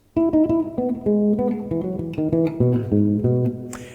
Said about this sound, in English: If I pick every note, it'll sound like this.